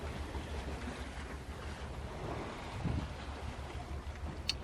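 A sailboat tacks out of a large bay near Ensenada, Mexico, in a freshening breeze, giving a steady, fairly faint rush of wind and washing water with no voices.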